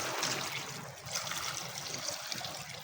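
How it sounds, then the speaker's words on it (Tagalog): Water poured into a pot of sautéed chicken for Filipino chicken sopas, a steady splashing trickle for a few seconds, close and continuous with no voices. "Lagyan natin ng tubig."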